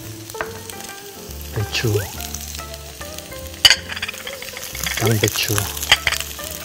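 Vegetables such as onion being stir-fried in a pan for a Chinese-style spicy pork dish, loud crackling sizzle with repeated clanks and scrapes of the utensil, a voice speaking intermittently over the cooking.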